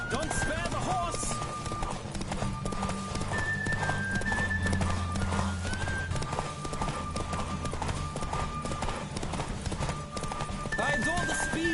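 Horse galloping in The Witcher 3, a steady clip-clop of hooves running throughout with occasional whinnies and neighs, while voices talk over the ride.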